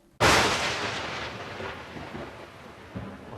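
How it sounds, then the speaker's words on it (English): A lightning strike hits with a sudden, sharp crack and then rolls into a long, loud rumble of thunder that fades slowly, with no voices. "Here's what it's like to be struck by lightning."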